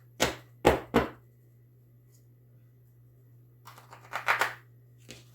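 Tarot cards being shuffled by hand: three sharp riffling bursts close up, a pause, then a longer cluster of quick card flicks and a final soft snap, all without talk.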